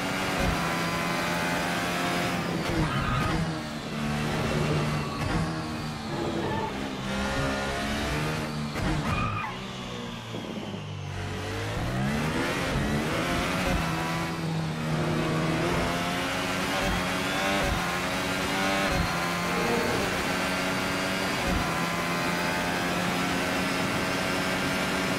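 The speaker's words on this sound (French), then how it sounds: "Vous l'entendez, le son de la voiture est également concluant au niveau sonore. On a vraiment l'impression d'avoir un V6 hybride" In the Assetto Corsa racing game, a hybrid V6 Formula Hybrid 2018 car engine screams continuously, rising and falling through gear changes, with brief tire squeals under the steady high-pitched roar.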